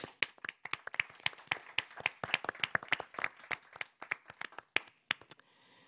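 Applause at a library association general assembly: a small group of distinct, individual hand claps, sparse and uneven in rhythm, near and clear, tapering off at the end.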